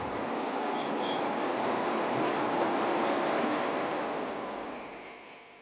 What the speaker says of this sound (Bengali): ওদিকে কু ঝিকঝিক শব্দে চমক ভাঙল আমাদের।